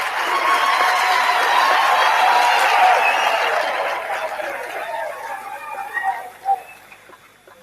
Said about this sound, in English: would also like to have one more round of applause for those they have supported